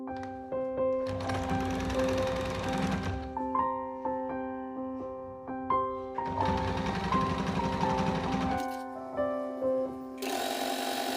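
A sewing machine runs in two long stitching bursts on a cloth organizer, a steady close mechanical whir with ticking needle beats, pausing in between, and no talk over it.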